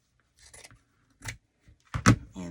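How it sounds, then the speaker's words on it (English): Scissors cut Dollar Tree wallpaper in a few short, crisp snips spaced across the moment, close and dry, the last cuts sharper and louder. "and I'm going to cut that."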